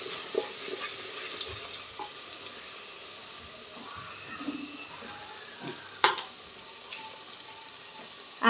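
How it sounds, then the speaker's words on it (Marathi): A spoon stirs turmeric into vajri (goat tripe) in a pan, giving soft scraping and intermittent clinks over a low sizzle, with a few sharper knocks scattered through. "अर्धा टेबलस्पून हळद, छान असं आपल्याला मिक्स करून घ्यायचं आहे"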